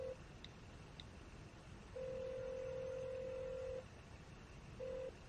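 A telephone call rings out as a thin, steady electronic tone, heard in a short burst, then one long sustained stretch, then a brief final burst, faint and alone in a quiet room.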